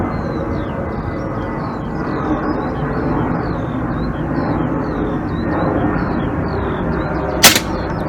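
An Iconix air rifle fires a single pellet with one sharp, brief crack near the end. A steady wash of background noise runs before it.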